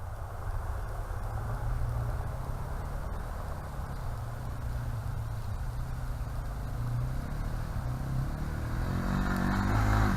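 A Yamaha TW200 motorcycle rides through the woods with a steady, rumbling engine drone that holds near and fairly loud throughout and swells slightly toward the end, no talking.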